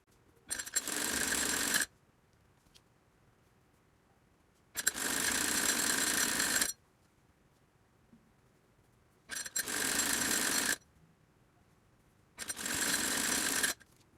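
A sewing machine stitches the side seams of a cloth Quran cover in four separate bursts of steady mechanical whirring, each about one to two seconds long, with quiet gaps between them and no talk.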